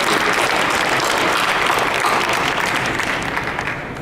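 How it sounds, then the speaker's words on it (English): Sustained audience applause at a neuroscience awareness function fills the room, loud and dense with many hands clapping steadily throughout, fading only slightly toward the end. "please give yourselves a round of applause for all of the efforts that you do to make this incredibly successful"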